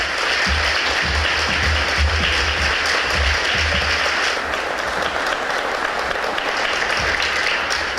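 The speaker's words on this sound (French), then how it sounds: "Je veux qu'on s'applaudisse." Audience at the unveiling of an official event program applauding themselves, loud, dense and close clapping sustained for the whole stretch with low thumps mixed in.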